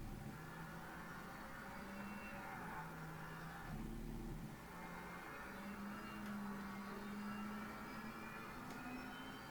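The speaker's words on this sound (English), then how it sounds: "You release an electric car that sounds like this" An electric race car in Project Cars 3 drives along, its quiet motor giving a thin, shifting whine that rises and falls with speed, heard alone and fairly soft.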